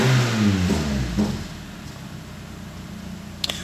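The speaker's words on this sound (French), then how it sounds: "J'entends quelques ratés qui sont pas bons." A Renault Mégane engine with a misfire revs briefly and then drops to an uneven idle, running close and fairly loud with no talking.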